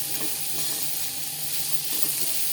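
Onions and chilli fry in a pan for a Maharashtrian dried-shrimp dish, a continuous loud sizzle with light stirring scrapes throughout and no speech.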